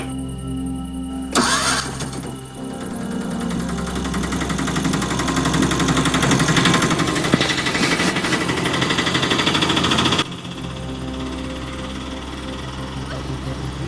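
A vehicle's engine cranks and catches, then runs loudly and steadily for several seconds before cutting out abruptly, leaving a quieter low hum behind.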